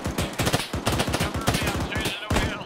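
Rapid automatic gunfire from the ArmA 3 military shooter, bursts of sharp cracks in a fast uneven rhythm filling the whole moment, loud and close with no voices over it.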